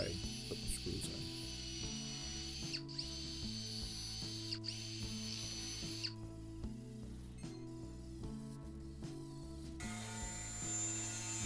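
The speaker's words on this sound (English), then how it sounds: "I'm going to support it with some brads before I put the screws in." Brads and screws driven into a glued wooden joint in a workshop: a whirring driver and ratcheting mechanical clicks, with pauses and bursts, over a steady low hum.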